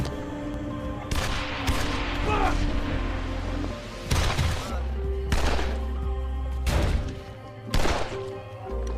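Several sharp, booming shots ring out at irregular intervals over a low, steady background rumble, like gunfire in a fight.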